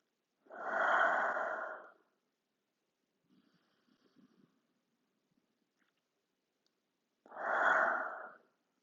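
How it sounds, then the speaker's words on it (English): Two slow, loud breaths drawn through the nose during a yoga session, each lasting over a second, separated by a quiet pause with faint small movements. "continue breathing however you need to, whether it's in and out through your nose or your mouth"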